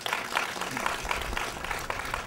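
An audience applauds at a civic gathering marking ten years of partnership with Radebeul, a continuous patter of many hands with a faint voice underneath.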